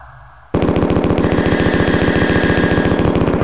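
Uzi 9mm submachine gun fire in the 1995 DOS first-person shooter Mortal Coil: a loud, sustained rapid-fire burst of evenly spaced shots that starts abruptly after a quiet moment and keeps going to the end.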